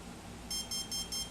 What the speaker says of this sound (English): 1 beep is for brake. 2 beeps is for battery type. 3 beeps is for cutoff.